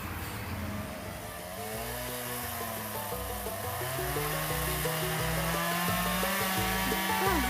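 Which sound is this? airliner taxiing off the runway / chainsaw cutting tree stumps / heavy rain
chainsaw cutting tree stumps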